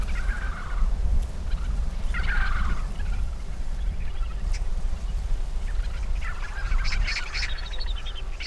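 Hundreds of wild vultures crowding and fighting over food at Jangdan, their raspy, gobble-like squabbling calls bursting out in scattered clusters above a steady low rumble of movement and wind.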